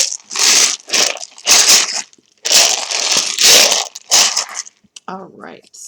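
Tarot cards being shuffled close up in bursts of papery riffling and crinkling, five or six rough swishes separated by short pauses, ending in a softer rustle.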